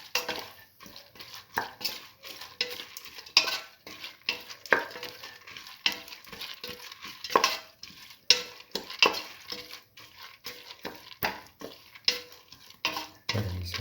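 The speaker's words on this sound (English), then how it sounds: "Thoroughly saute and mix. With the rest of the mixture." Red lentils and a bottle gourd mixture sauté in a pan, with a soft sizzle under repeated scraping, clinking stirs of a utensil against the cookware, close and fairly quiet.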